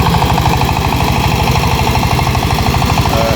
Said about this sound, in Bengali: একটি পাওয়ার টিলার দিয়ে শুকনা জমি চাষ করছে